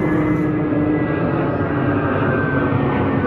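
A fixed-wing airplane passes overhead as a steady, loud engine roar and drone that fills the whole clip, heard in the Swedish countryside during mushroom picking, with no talk over it.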